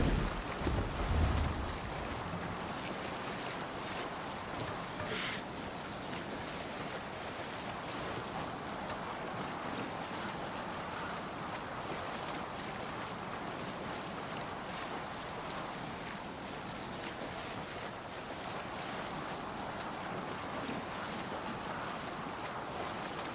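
A sailing ship out at sea in Assassin's Creed Valhalla, with a steady wash of waves and wind rushing past the hull, continuous and fairly loud throughout, with a brief heavier thump near the start.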